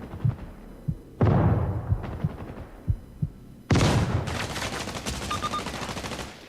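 Flashbang blast followed by bursts of gunfire in the video game Caliber, loud sharp impacts and a sustained roar of shots with rapid crackling, close and intense.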